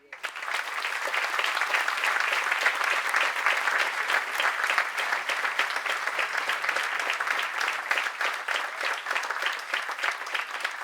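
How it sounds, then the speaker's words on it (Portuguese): Sustained applause from a large audience at a celebration of a school building's 110th anniversary, dense steady clapping filling the whole stretch at an even loudness. "eu peço um grande aplauso para o João Jaime"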